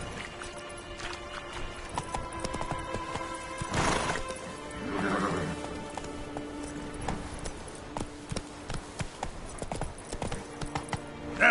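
A horse named Roach gallops with a steady, fast clip-clop of hooves throughout, and a brief whinny rises over the hoofbeats.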